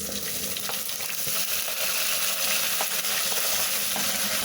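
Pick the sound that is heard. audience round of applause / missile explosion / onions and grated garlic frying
onions and grated garlic frying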